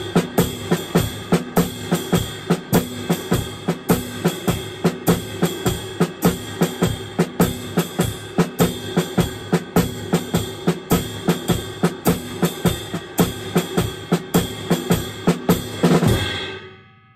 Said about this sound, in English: we're going to work on just the ride cymbal and the snare drum